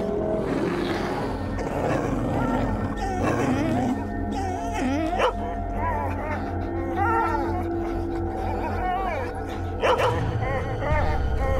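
Several dogs bark, yip and growl in a busy, overlapping chorus close by, with a person speaking over them at points.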